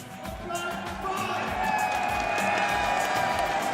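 A large crowd at EVO cheering and clapping for Lost Soul after a Guilty Gear Xrd Revelator 2 top 8 performance, with continuous loud applause and cheering that swells slightly partway through.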